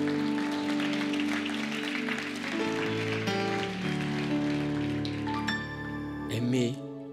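Church congregation clapping and cheering in praise, a dense sustained wash of applause with musical tones and voices mixed in, loud and close throughout.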